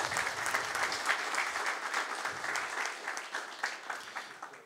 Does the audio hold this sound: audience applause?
yes